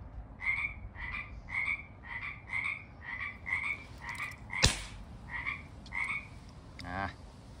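A chorus of frogs croaks in quick regular pulses close by, with a single sharp clack midway and a fainter rasping call near the end.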